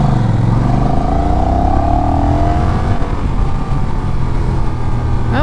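Close, loud engine roar as a Honda Rebel 1100 DCT motorcycle accelerates to about 45 mph, pitch rising through automatic shifts, heavy wind buffeting throughout and no talking.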